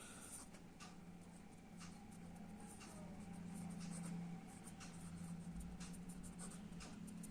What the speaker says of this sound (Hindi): मैं ये लिख देता हूँ यहाँ पर मीनिंग उसका